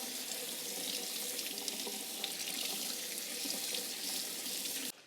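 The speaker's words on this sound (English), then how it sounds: "we're gonna rinse off the excess salt" Running sink water splashes steadily over brined meat being rinsed in a home kitchen, a loud, continuous hiss and spatter throughout that cuts off abruptly at the end, with no voices.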